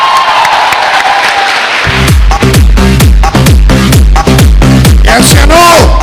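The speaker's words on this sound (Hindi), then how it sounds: "जोरदार तालियां।" A large audience claps and cheers loudly for about two seconds at a Safe Shop motivational seminar, then the applause gives way to loud, steady, rhythmic music with a thumping beat.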